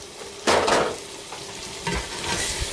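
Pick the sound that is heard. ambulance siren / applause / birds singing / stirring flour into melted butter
stirring flour into melted butter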